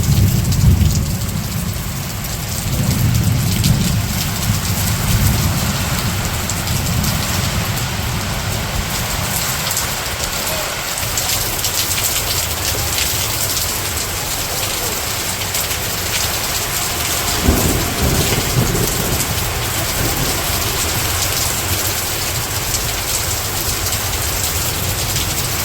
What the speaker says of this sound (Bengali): বাতাসও ছাড়ছে আর বৃষ্টিও নামতেছে এখন।